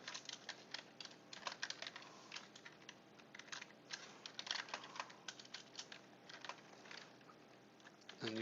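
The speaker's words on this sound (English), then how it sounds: "It's kind of a lot of typing when you do this." Steady, busy clatter of computer keyboard typing while writing C++ code, a dense run of close, quick key clicks with no speech.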